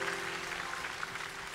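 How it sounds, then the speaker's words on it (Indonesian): Church congregation at a healing crusade applauding, a soft, distant wash of steady clapping with no voices over it. "Berikan tepuk tangan buat Tuhan."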